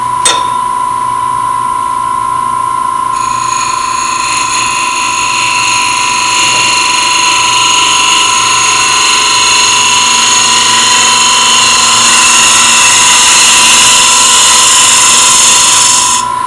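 A carbide end grain hollowing tool cuts wood on a lathe, giving a loud, steady whine with a sustained tonal hum and bright high shrill overtones that build toward the end, continuous and close with no speech.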